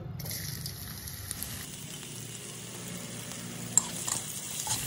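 Carrots frying in oil in a pan for street-style egg chowmein make a soft, steady sizzle, with a few faint utensil clinks and stirring knocks near the end.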